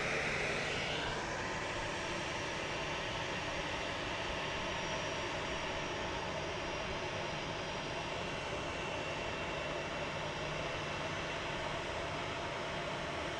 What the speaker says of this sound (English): That is our plane from Dallas.